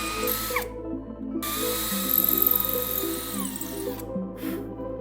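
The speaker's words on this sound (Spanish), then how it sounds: "Hacemos estos 3 agujeros con una broca de 5 milímetros de diámetro." A power drill with a 5 mm bit bores holes through a part, the motor whining in bursts and changing pitch as it cuts, with short pauses between passes.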